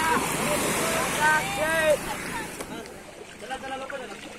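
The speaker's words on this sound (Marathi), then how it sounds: "ही आहे आपली स्कूबा डाईवची बोट" A scuba dive boat rocks at sea near Sindhudurg fort on the Konkan coast, with water sloshing and wind noise close by, while people talk over it throughout.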